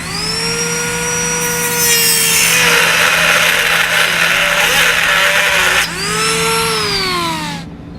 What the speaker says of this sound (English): Now I'm going to be using a rotary tool.